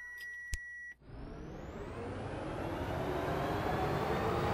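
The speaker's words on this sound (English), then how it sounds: "This engine and the vrooming sound is a Tesla." A Ford F-150 pickup in Car Crushers 2, fitted with a Tesla-style electric drive sound, gives a short beep and then surges into a rising, whooshing electric whine that builds steadily louder.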